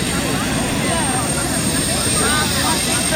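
An army helicopter idles after landing, its engine and spinning rotor blades making a steady, loud broadband whine and whoosh that fills the scene continuously without letting up.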